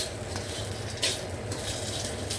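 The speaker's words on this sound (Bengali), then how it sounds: "এখানে যে বেগুনটা ভেজে নিচ্ছি" Eggplant pieces frying in oil in a kitchen pan give off a steady, close hiss of sizzling, with a faint utensil clink partway through and no talking.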